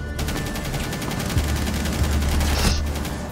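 Rapid video game gunfire in a sustained fusillade of closely spaced shots, loud and continuous over a few seconds with an evenly pulsing rhythm.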